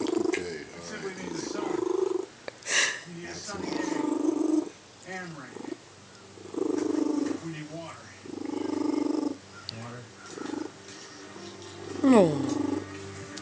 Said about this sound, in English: He gets so happy that he purrs so hard that he starts to cough.